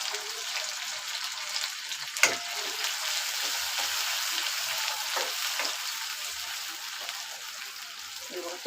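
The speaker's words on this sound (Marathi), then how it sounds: "मी पहिले याला फोडणी तेलात टाकते" Chopped onion, curry leaves and tomato hit hot oil for tempering in a home kitchen, a steady close sizzle and crackle with a sharp spatter near the start and occasional stirring.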